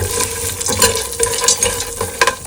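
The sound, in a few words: mixing peanuts, cashews, almonds, coconut in oil in pan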